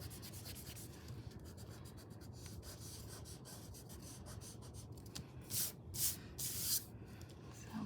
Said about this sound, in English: I need to go back and erase more.